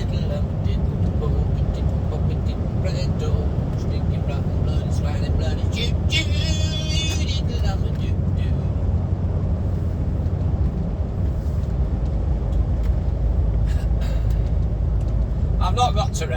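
A UK truck rolls downhill off the throttle on the road toward Glasgow, giving a steady low cab rumble with scattered light rattles and clicks throughout.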